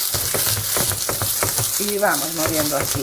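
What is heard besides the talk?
green pepper frying for paella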